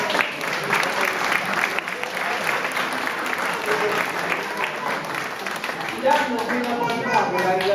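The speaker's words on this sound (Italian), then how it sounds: "Facciamo un altro applauso." Steady applause from a crowd at a demo show in Rome, dense clapping that carries on throughout with voices mixed in beneath it.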